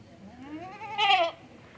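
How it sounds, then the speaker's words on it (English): A goat with a broken leg on a farm gives a single wavering bleat, rising and then swelling louder before breaking off, heard close and alone. "take a look at the goat with the broken leg"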